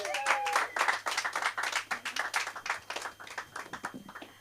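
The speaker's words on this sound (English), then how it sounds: "Please make it loud for Victoria." Comedy club audience applauding and clapping as a comedian comes to the stage, a steady dense wash of claps from a small intimate crowd, loud and close, with no talk over it.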